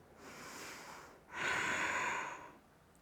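A yoga student breathes during bridge pose: one slow inhale through the nose, then a longer, louder exhale, close and intimate with no talking.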